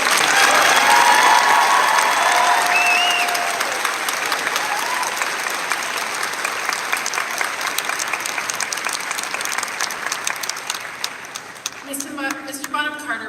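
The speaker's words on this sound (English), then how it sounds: "Let's give them another round of applause." Sustained applause from a graduation ceremony audience fills a large hall, steady and dense for about eleven seconds before thinning out, with brief bits of voices near the end.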